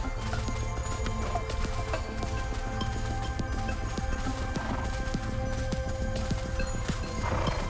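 A Nightsky Horse in the video game Trek gallops at full speed, with fast, steady, evenly spaced hoofbeats over a constant low rumble of game sound, running continuously with no pauses.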